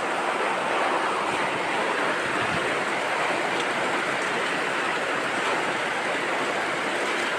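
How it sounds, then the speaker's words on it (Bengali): Rain falls in a constant broad rush, steady and fairly loud, with a windy, surf-like quality and no voices. "সারা দিন আজকে বৃষ্টি হচ্ছে"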